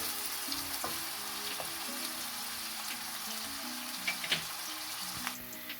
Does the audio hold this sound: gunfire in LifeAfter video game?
no